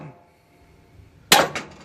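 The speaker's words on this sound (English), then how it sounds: "I just gave the tie rod end a whack with a hammer." Two sharp metallic clanks from a hammer striking a tie rod end on a 2nd-generation Ram 1500 pickup, close and loud, after a quiet stretch with faint background hum.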